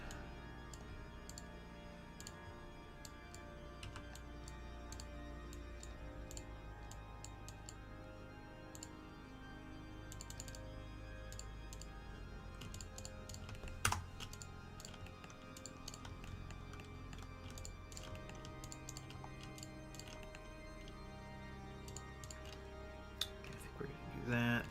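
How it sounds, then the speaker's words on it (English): Someone types hard on a computer keyboard, making quiet, scattered key clicks and taps that run throughout, with a louder slam partway through and a voice talking at times. "Sorry, slam on my keys."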